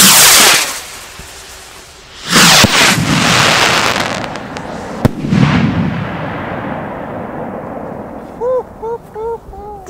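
Consumer fireworks go off outdoors: a loud boom and crackle at first, another heavy burst around the middle with trailing crackles, then a short whistling sequence of smaller bangs near the end.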